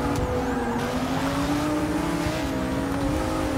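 A Lamborghini Huracan race car engine in Forza 6 drones steadily at high revs, its pitch gently rising and dipping as it accelerates, loud and close throughout.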